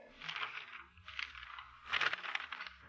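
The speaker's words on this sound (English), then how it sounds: "The sound of the flipping pages." Pages of a telephone book are flipped in quick bursts, three soft papery riffles with short pauses between them, close and quiet, with no voices.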